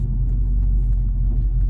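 A 1970 El Camino fitted with a Gear Vendors overdrive and PCS paddle shifters pulls hard under acceleration, a loud, deep, steady engine rumble heard close from inside the car with no talking.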